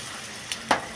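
Raisins drop into hot fat in a pan while making pineapple chutney, giving two brief crackling sizzle bursts close by, the second louder, over a quiet background.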